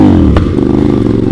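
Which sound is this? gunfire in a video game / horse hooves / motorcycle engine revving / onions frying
motorcycle engine revving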